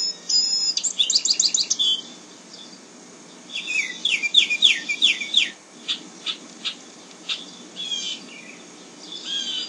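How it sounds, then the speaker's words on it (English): Small birds singing morning songs, with bursts of rapid high chirps and trills repeating in short phrases, interspersed with single tweets over a quiet hiss of background, moderately close and with no talk. "He explained about the birds who came to sit on their branches and sing morning songs."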